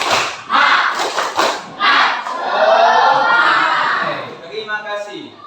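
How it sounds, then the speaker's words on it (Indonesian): Schoolchildren perform a rhythmic spirit-clap chant, with loud bursts of group clapping and shouted voices in quick succession, followed by a sustained collective cheer that fades into scattered claps. "Tepuk semangat"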